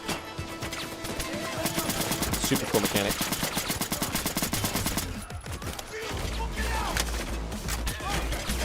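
Rapid, punchy cannon fire from the Helldivers video game, a dense run of loud repeated blasts in quick rhythm that breaks off and then returns, with someone talking excitedly over the shots.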